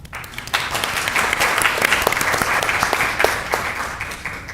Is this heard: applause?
yes